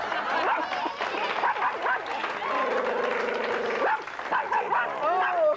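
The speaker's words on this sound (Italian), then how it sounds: "Guarda, è il cane di Raffaella." A dog, shown as a puppet on an Italian TV variety show, yips and barks in short bursts amid studio noise and applause, with a longer whining stretch in the middle and people talking over it.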